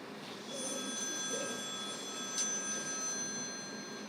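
A telephone rings in a quiet room during a tense night drama, a steady faint bell tone held for several seconds with no voices.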